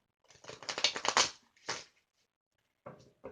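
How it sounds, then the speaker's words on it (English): Rapid papery riffling of oracle cards being shuffled, a dense flurry followed by a few shorter bursts and a final couple of quick flicks, close and fairly quiet. "I'm going to go ahead and give these a shuffle as well."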